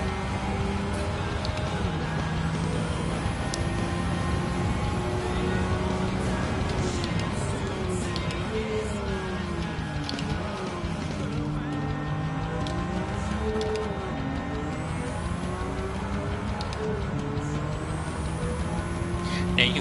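Race car in Gran Turismo 7 with the engine droning steadily, its pitch rising and dipping through gear changes and throttle shifts, continuous and fairly loud from start to finish.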